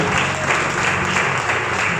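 A church congregation at an evening service applauds, a dense, steady wash of many hands clapping that fills the room without a break.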